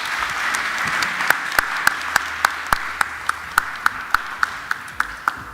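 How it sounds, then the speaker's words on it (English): Applause from an audience at a student architecture awards event: a broad, steady clapping crowd with one loud, close pair of hands striking in a regular rhythm above the rest. "Let's give Luzuko and Creole another big round of applause"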